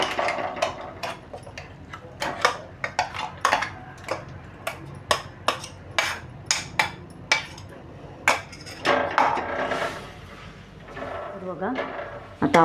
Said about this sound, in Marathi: आलं परतून घ्यायचे तुपावरती